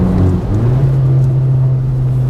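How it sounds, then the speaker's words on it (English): A RacingLine-modified VW Polo GTI gives off a loud, close engine and induction roar that holds steady for a couple of seconds. "we've got turbo chatter as well, which is pretty cool"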